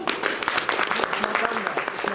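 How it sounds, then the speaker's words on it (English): Audience applause at a convention's three-minute presentation challenge: a crowd clapping steadily and fairly close, a dense patter of many hands, with voices faintly mixed in. "Applaud once the presentation is done."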